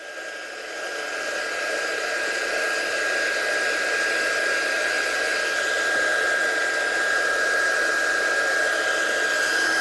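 A handheld heat tool blows a constant, loud, close whoosh with a thin steady whine as it dries ink splats for heat setting, running unbroken for about ten seconds with no speech.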